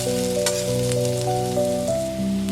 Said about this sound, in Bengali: আমি হালকা ভেজে নেব।